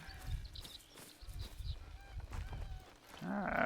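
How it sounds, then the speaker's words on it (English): Geese honk in theHunter: Call of the Wild, a string of nasal calls at moderate distance over soft ambient game sound, growing louder at the end. "we got some geese over here"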